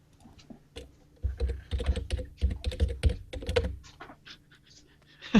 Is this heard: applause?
no